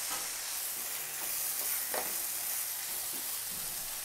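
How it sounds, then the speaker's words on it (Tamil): Chicken masala, chilli powder and coriander powder sautéing in oil in a pan, a soft steady sizzle with faint scraping stirs, close and quiet. "இதை போட்டு இன்னும் கொஞ்சம் எண்ணெய் ஆட் பண்ணி நல்லா வதக்கிக்கோங்க"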